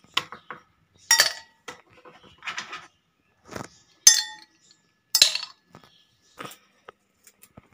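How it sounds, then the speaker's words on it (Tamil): One or two ice cubes drop into a glass of ginger lemonade, making a scattered series of sharp, bright clinks and taps with quiet gaps between them, close and alone. "நான் கொஞ்சம் ஒரு 1 or 2 ஐஸ் க்யூப்ஸ்"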